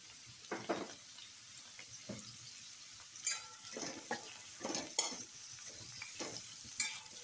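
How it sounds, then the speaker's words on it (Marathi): Onion dropped into hot oil in a pan, crackling sizzle with repeated scraping stir strokes in an irregular rhythm, close but fairly faint, no voices. "आता या तेलामध्ये कांदा टाकायचा."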